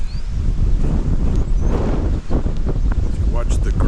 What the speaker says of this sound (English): the wind is still whipping down here